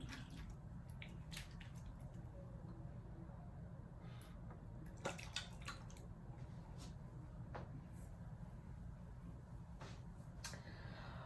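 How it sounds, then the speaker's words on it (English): Hair product being worked together with water in cupped hands on wash day, giving faint wet squishes and small drips over a steady low background hiss, with no one talking. "So I'm just gonna mix it up with some water in my hand and thin it out."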